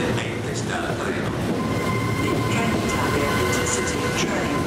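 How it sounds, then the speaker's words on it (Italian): A Trenitalia train from Milano Centrale, bound for Grosseto, pulls into La Spezia Centrale station with a loud continuous rumble of wheels on rails and faint brake squeals, while a station announcement plays over it. "Trenitalia, proveniente da Milano Centrale e diretto a Grosseto delle ore 11:23 in arrivo al binario 3."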